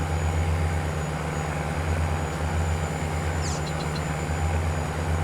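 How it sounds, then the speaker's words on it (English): Train passing through the center of town in the video game Farm Simulator 19, a steady loud rumbling drone that stays constant throughout with no pauses. "I do like that train that goes across through the center of town."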